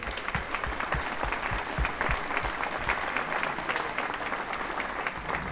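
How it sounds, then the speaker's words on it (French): Audience applause at a GGR2022 sailing race prize giving, greeting the race partners: dense steady clapping from a crowd filling the room, even in level throughout. "Applaudissements pour les partenaires, s'il vous plaît."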